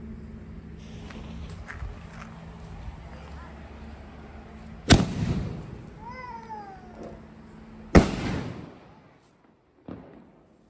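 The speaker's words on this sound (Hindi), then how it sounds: "ये था चिदम्बरम का रेड वाला स्काई शॉट जो कि ऊपर जाकर कुछ ऐसा चलता है।" Diwali sky shot fireworks, a red Chidambaram-brand rocket among them, go off with sharp loud cracks and rising and falling whistling tones between the bangs, ending in a fainter pop over low outdoor background noise.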